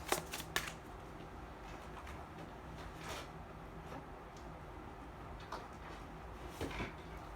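A deck of chakra energy cards being shuffled by hand at close range, several quick riffling bursts early on, then softer sliding and tapping, with a few more riffles near the end in a quiet room.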